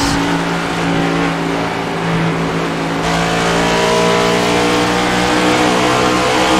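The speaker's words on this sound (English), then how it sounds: "We've got a pack of cars in front of him, screaming down the front stretch here at Phoenix." Race cars roaring as a pack down the front stretch at Phoenix in a racing video game, a loud sustained multi-engine drone with layered harmonic whine, steady and close throughout with no talk.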